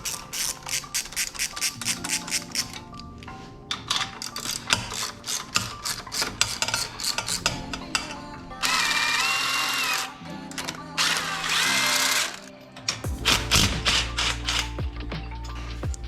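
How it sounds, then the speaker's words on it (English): Ratchet wrench clicking in rapid bursts while loosening turbo bolts on a triple-turbo Honda Civic engine, with short runs of ratcheting, brief pauses, and a louder power-tool whir in the middle; no talking. "we're gonna have to unbolt the turbo to get the plugs out"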